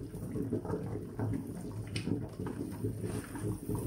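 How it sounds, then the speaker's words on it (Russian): Hot syrup brine with bay leaf and peppercorns is poured over a green tomato salad, a close, continuous splashing, gurgling stream lasting a few seconds. "И заливаем горячей заливкой наш салат."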